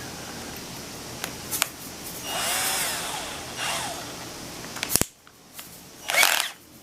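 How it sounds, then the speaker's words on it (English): An electric drill whirs in two short bursts between clicks and handling noises, with a final brief spin after a sharp snap, while making a wire harness for fishing lures; nobody speaks. "Now I use a drill, put an L wrench"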